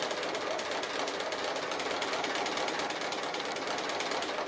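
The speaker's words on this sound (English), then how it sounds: "I'm just sewing close to the edge of the applique. Just like a little straight stitch, but I'm just doing it free motion" A sewing machine runs continuously during free-motion straight stitching around the edge of a fabric appliqué, giving a fast, even mechanical rattle with regular pulsing at steady close volume throughout, without speech.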